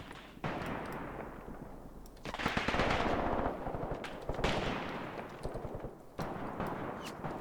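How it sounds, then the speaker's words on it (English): Machine guns rattle in rapid continuous bursts in the Graviteam Tactics war game, dense and steady with brief pauses between volleys, set against a rumbling battlefield background. "So the machine guns are now starting to sing."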